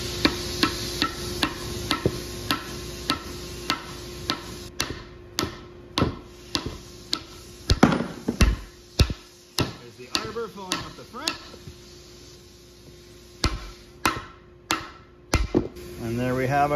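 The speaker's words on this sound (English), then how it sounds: "then you drive the shaft in with a soft hammer" Sharp soft-hammer knocks drive a countershaft into a Mopar A833 four-speed transmission, some in quick bursts and others spaced apart, loud and close against a quiet background.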